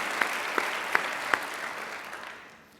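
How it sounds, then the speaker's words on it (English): Audience applause at a fall university convocation for newly introduced faculty, a soft even patter with a few sharper claps standing out, gradually fading toward the end. "a round of applause for those individuals"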